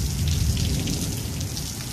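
Dense, even rainfall keeps up a constant broad hiss of drops hitting surfaces, with no thunder or speech.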